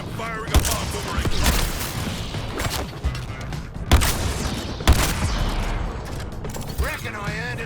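A bomb fired in the video game Suicide Squad: Kill the Justice League, heard as a few sharp blasts over dense mechanical clatter and game noise, with voices talking through the action.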